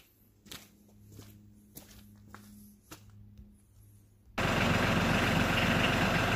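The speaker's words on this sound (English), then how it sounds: "let me go get the tractor" Several footsteps crunch at an uneven pace while a tractor engine idles low in the background, then the engine suddenly roars up loud and steady.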